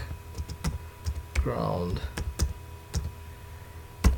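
Computer keyboard keys clack as code is typed, sharp irregular taps close to the microphone spread across several seconds, with a brief voiced murmur in the middle.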